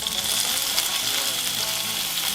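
Onion, tomato and peppers frying in oil in a pan give a steady, close hiss and crackle of sizzling throughout, with no talk over it.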